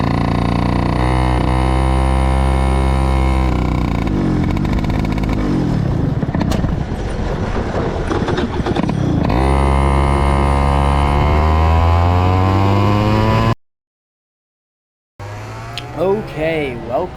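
A racing go-kart engine on a karting circuit roars loud and close, its harmonic whine rising and falling with throttle for about thirteen seconds, then briefly cuts out before revving back in.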